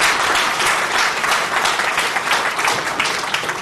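A conference audience at the Oasis 2011 optics event applauds the organizing committee, a dense, loud, sustained wash of clapping from many hands, steady throughout with no voices over it.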